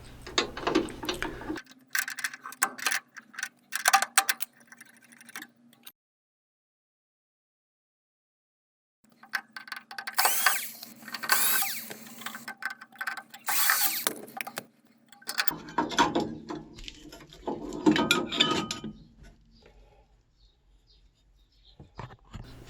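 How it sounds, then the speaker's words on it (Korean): Metal tool clicks, ratcheting and scraping come in bursts while an oil boiler burner is taken off with a spanner and screwdriver, close up, with a silent gap in the middle. "다음으로 스패너와 드라이버를 이용하여 버너를 분리해 주시면 됩니다."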